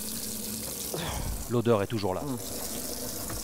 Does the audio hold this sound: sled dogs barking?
no